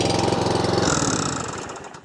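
A Stihl RM 4 RTP lawn mower's engine catches and runs with a rough, close mechanical clatter, then begins to fade out within about two seconds.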